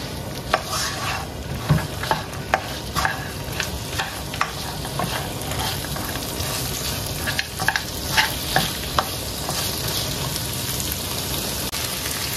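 Keema masala slowly stir-fried on low heat in a pan: a continuous close sizzle with regular sharp ticks and scrapes from the stirring utensil throughout.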